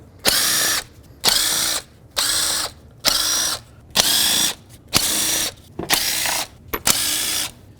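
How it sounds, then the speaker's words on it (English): A powered 10mm tool whirs in eight short, evenly spaced bursts, with brief pauses between, as nuts and bolts come off the valve cover of a 2002-06 Toyota Camry. The tool is close and loud, with no talk. "with a 10mm, go around and remove all the nuts and bolts that hold this valve cover on"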